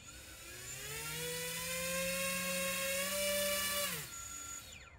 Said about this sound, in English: I'm going to throttle up the rear motors